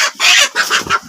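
Chickens of the Tiger breed clucking as they eat drumstick leaves in a village yard, several close, loud bursts in an uneven rhythm, with no one speaking.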